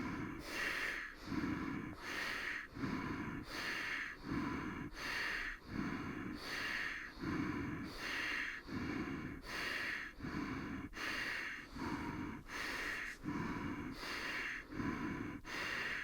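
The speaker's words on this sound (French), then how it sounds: "Je continue la respiration." Steady, rhythmic breathing during a stress-relief yoga session, each inhale and exhale heard close and soft, repeating in a regular cycle with no talking.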